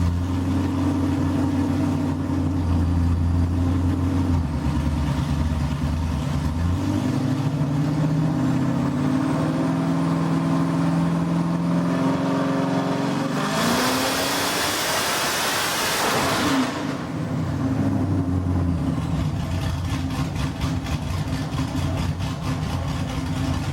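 A 1300whp Corvette engine on a Dynojet dyno drones at idle, then climbs through a rising rev of the pull, roaring loudly for a few seconds before dropping back to a low idle.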